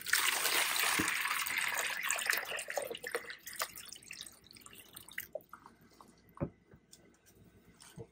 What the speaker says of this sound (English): Let's get the RODI water in there.